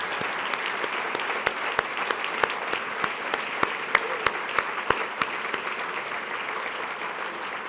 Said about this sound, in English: Please give a huge round of applause for Dr. Suzanne Dickey